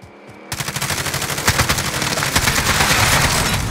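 Automatic gunfire in Warzone, aimed at a shield, bursts in loud and close after a brief quiet moment, then runs as a dense, rapid string of shots to the end.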